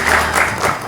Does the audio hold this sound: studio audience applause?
yes